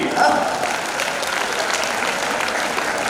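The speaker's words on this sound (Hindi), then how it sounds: "तालियां कमजोर है आपकी" A crowd at a Hindi comic poetry show in Mewar applauds, a continuous, fairly loud wash of clapping with no clear breaks.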